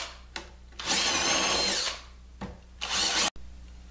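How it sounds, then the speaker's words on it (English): A power drill bores and countersinks holes in wood during a pub table build, two bursts of whining motor and cutting, the first about a second long and the second shorter, with quiet pauses between and no talk. "drill the holes from the front side, and I'm just going to drill and countersink from this side"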